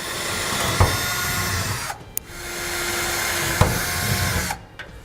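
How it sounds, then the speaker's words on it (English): Small bit in a power drill boring a pilot hole upward from underneath, two loud, steady whirring runs that stop with brief pauses between, close by and with no talking. "we're going to take a small drill bit and we're going to drill a pilot hole from the bottom going up top"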